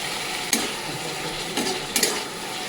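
Fried pointed gourd goes into a pan of well-cooked spice masala with a splash of water, giving a steady close sizzling hiss broken by a few brief scraping clatters.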